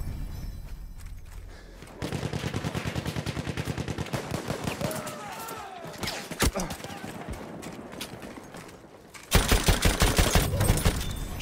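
Rapid gunfire poured into a building in Battlefield 1, rattling bursts repeating in a steady rhythm, loud and close, with a heavier burst near the end.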